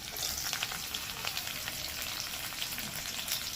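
Chopped garlic and green chillies sizzle in hot oil in a pan, a steady crackling fry with a faint stir, close and continuous.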